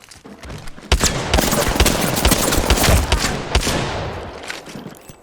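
Dense, sustained gunfire in a video game firefight, a rapid stream of overlapping shots and bursts kept up for several seconds, loud and close.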